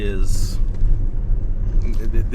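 Jeep Gladiator with a 5.7 Hemi engine, running with a steady low rumble underneath continuous talking for the whole short stretch.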